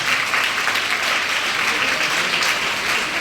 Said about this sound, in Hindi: तालियां बजाइए बस ये बैठ के आराम से